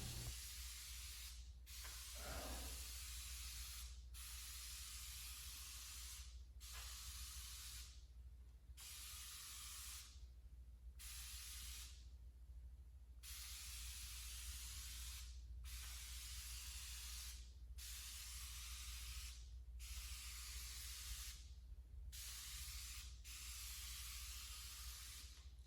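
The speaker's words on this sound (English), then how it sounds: "Keep it light and overlap on your spray lanes." Aerosol spray paint applied to a BMW E39 M5 parcel shelf in light, overlapping passes: a dozen or so steady hissing bursts, each a second or two long, separated by brief pauses, close and clear with no talking.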